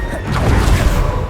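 Bombarda spell in Hogwarts Legacy bursting as a loud, close, rumbling explosion with a deep low-end boom that swells and sustains for over a second.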